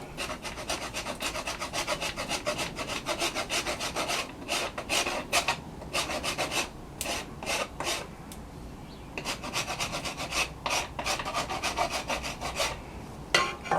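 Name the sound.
rasp filing wooden bow sapwood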